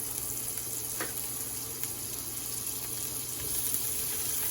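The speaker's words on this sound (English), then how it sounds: "I'm going to go ahead and add some butter to that" Butter melting in a pan for homemade brown gravy, giving a soft steady sizzle with a faint hiss throughout, fairly quiet and close, with no talking.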